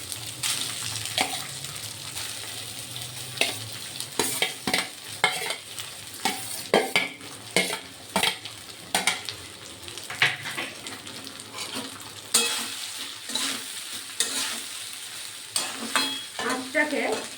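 Cooked rice for vegetarian fried rice is tossed and stirred in a hot pan, with repeated scraping clatters and bursts of sizzle in an uneven rhythm, close and fairly loud.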